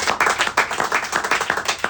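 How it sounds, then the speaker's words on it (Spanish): A church congregation claps together in a quick, steady rhythm, many hands close and lively, with no voices over it. "Denle un aplauso al Señor."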